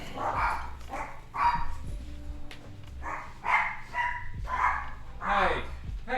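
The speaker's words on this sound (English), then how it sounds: "I gotta see what the dogs are barking about" Dogs bark in a series of repeated bursts at moderate distance, with a few yips and whimpers between them.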